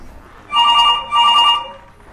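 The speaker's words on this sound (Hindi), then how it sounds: "मेरा फोन आ रहा है" Mobile phone ringtone for an incoming call, two clear electronic ringing bursts close by with a short gap between them, on a comedy stage show.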